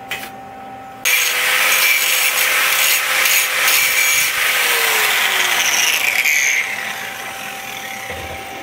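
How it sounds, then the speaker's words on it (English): Grinder working a steel weld smooth on a steel work table, a loud continuous abrasive whine that starts abruptly and holds steady for about six seconds before easing off, with no talking. "I'll grind this off half decent smooth"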